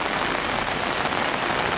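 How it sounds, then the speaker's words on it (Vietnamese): Heavy rain falls outdoors near a bonsai tree, a dense, steady hiss of drops on surfaces that is loud and constant throughout, with no voices. "Còn tôi thì đương đứng ở dưới trời mưa thực hiện nốt video này."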